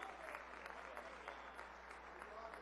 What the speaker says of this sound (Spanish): También un aplauso para el doctor Germán Escarrá